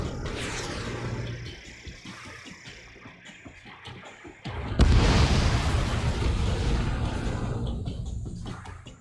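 A target explodes in the Ace Combat 7 flight game, a sudden loud boom after a quieter stretch of jet noise and clicks, followed by a long rumbling roar.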